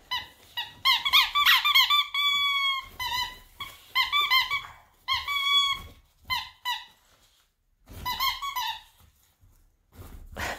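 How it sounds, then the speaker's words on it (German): A Jack Russell terrier chewing a squeaky dog toy, giving repeated bursts of shrill, high squeaks in irregular clusters separated by short pauses, close and clear. "Also im Endeffekt kein Leckerchen drin, nur so ein Quietschi."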